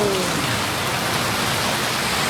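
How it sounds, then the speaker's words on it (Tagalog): Heavy rain pouring down outdoors, a dense, loud and unbroken hiss of drops striking surfaces with no voices. "Ayan, sabog ng ulan ngayon."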